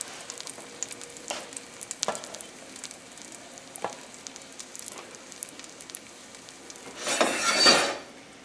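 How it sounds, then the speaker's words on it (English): A pork paillard sautés in a pan over a fairly high flame, giving sparse crackles and pops at close range and then a louder sizzling burst near the end. "I like to saute it like this"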